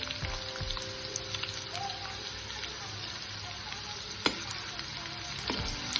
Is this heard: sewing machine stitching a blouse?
no